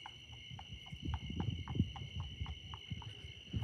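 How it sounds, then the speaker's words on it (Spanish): Horse hooves clip-clop at night outdoors in a steady walking rhythm, a dozen or so soft hoofbeats a short distance away, with faint insect buzzing in the background. "Un caballo, amigos, un caballo."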